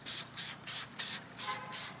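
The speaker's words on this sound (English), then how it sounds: "Spray your rims down with your cleaner." Six quick hissing bursts from a spray bottle of wheel cleaner sprayed onto car rims, evenly spaced and close up, with no talking.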